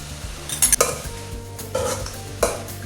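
Banana stem stir fry being mixed in a pan, with a few clinks and scrapes of a spoon against the metal and faint background hum, no talking.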